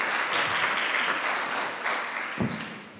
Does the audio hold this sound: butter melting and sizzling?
no